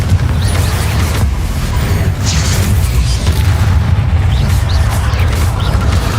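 Confringo fire spell blasts in Hogwarts Legacy, a dense run of booming explosive bursts over a continuous loud low rumble of game combat.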